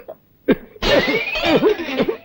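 A man coughs in a Telugu comedy film scene: a short hack, a brief pause, then a longer run of rough, voiced coughing bursts, close and loud.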